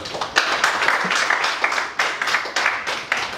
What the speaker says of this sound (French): Applaudissons pour recevoir Tonton Richie, s'il vous plaît.